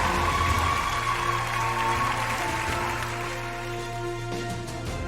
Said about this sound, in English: the huge round of applause to Tata Communications